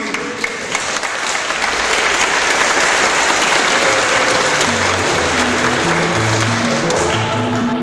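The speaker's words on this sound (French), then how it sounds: "Applaudissons pour Jésus." A church congregation at an Easter Mass claps together in dense, sustained applause filling the hall, with faint low tones running underneath through the second half.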